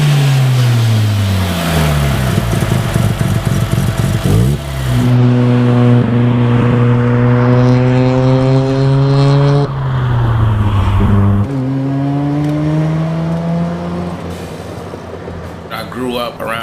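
A turbocharged Mazda RX3 running about 15 psi of boost revs up and down in long sweeping pulls, loud and close, its rotary engine note rising and falling alone before a sharp burst near the end.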